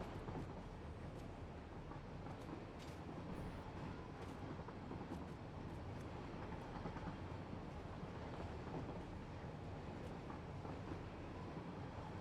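A train in the factory-building video game Satisfactory rolls along with a continuous, even rumble and faint clattering that holds steady throughout, with no talking.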